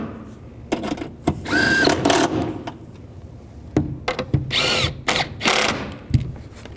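Power drill driving and tightening the mounting bolts on a 2010-2017 Chevrolet Equinox windshield wiper motor, in several short whirring bursts with pauses and clicks between them, close and fairly loud, with no speech.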